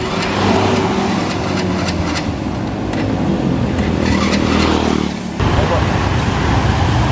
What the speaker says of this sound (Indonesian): coba semoga motor hidup